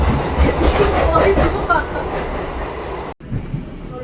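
Inside a nearly empty last train home from a fair, a loud steady rolling rumble with clacking wheels fills the carriage, briefly cutting out near the end, with faint talk underneath.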